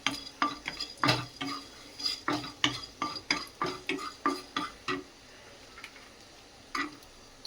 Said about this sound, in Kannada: ಚಕ್ಕೆ, ಲವಂಗ, ಮೆಣಸು ಚೆನ್ನಾಗಿ ರೋಸ್ಟ್ ಮಾಡ್ಕೋಬೇಕು